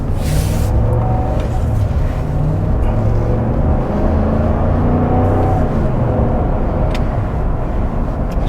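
A 2021 Ram 1500 Limited pickup truck accelerates on the road, heard from inside the cab as a loud, steady engine drone with rising tones and road rumble, no talking.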